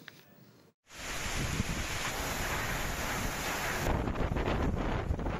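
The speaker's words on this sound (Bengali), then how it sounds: "ঘূর্ণিঝড়ের প্রভাবে রাজধানী সহ সারা দেশে ঝোড়ো হাওয়া ও বৃষ্টি হচ্ছে।" Strong stormy wind from Cyclone Remal roars steadily across the microphone, a loud broadband rush with gusting buffets after a brief dropout near the start, no voices.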